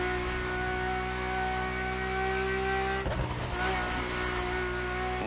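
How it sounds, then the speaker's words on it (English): The car engine in The Crew Motorfest drones steadily from inside the cabin as a loud, harmonic hum, with a brief revving surge and a shifting roar around the three-second mark. "the car's voice sounds even better from inside"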